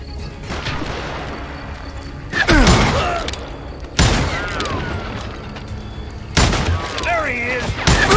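Gunfire from the Western shooter game Call of Juarez: Gunslinger, with sharp loud shot bursts at several points over steady background ambience, while voices shout between the shots.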